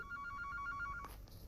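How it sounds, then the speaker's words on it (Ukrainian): A telephone rings inside a horror video game, a steady repeating electronic trill over a low ambient drone, fairly quiet, cutting off partway through with a soft click. "Все дзвонять, чуєте? Телефон ось."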